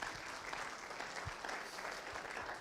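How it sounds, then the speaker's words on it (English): A conference audience at a Western Balkans ministerial meeting on public administration reform applauds in steady, continuous clapping that stays fairly soft and distant throughout, with no voices over it. "So a big applause for the RESPA colleagues for pulling this all together."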